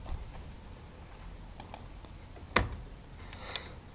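Keys clatter softly on a computer keyboard while entering payroll figures in Tally accounting software, a few scattered taps topped by one sharp, louder press of the Enter key near the end, with no talking.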